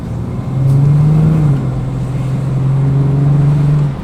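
A Ford Falcon car engine with a slight misfire runs steadily nearby, rising briefly in pitch and then settling into a low, uneven drone.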